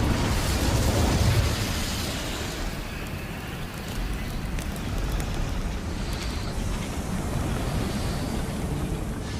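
Incendio fire spell cast in the video game Hogwarts Legacy, a loud whooshing burst of flame with a roaring, wind-like rush that starts strong and settles into a steady crackling rumble, with no talking.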